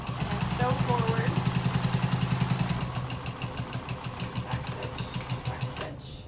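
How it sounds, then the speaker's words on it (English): A sewing machine stitches a tote bag, backstitching and then sewing forward, in a fast run of regular mechanical pulses that slows into spaced stitches before stopping. A voice speaks briefly over it. "I'm just going to backstitch a few times and then sew forward"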